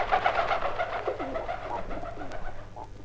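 A dove coos in an audio story, a close, clear run of soft repeated coos that fades slightly toward the end, with no speech.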